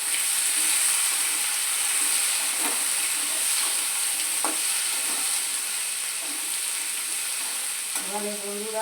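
Bay leaf, cumin seeds and a dried red chilli tempering in hot oil, a dense, even, loud hiss of frying with scattered crackles, close up and steady throughout.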